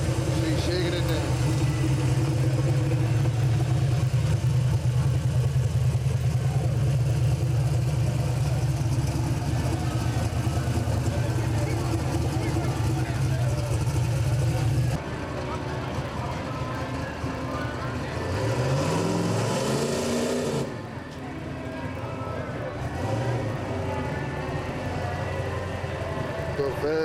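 Fast Eddie Turbo drag race car engine, loud and steady with a heavy low rumble for the first half, then shifting to revving sweeps and changing pitch as it shakes down, with voices mixed in.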